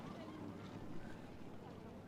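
A small boat crosses open water on a Croatian outing, heard as a faint, steady wash of water and wind noise with a low engine rumble and no clear voices.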